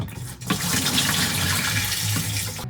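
A gallon of water gushes steadily into a camper trailer's black water pipe, a loud continuous pouring and gurgling rush that starts abruptly and holds for a couple of seconds.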